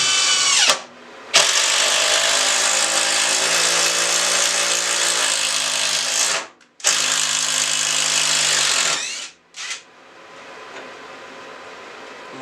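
A cordless drill driver at speed 2 whines loudly and steadily as it drives a screw, in three sustained runs separated by short pauses, the pitch holding nearly constant before winding down.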